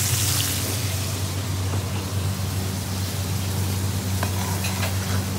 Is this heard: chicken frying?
yes